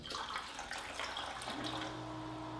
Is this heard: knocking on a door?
no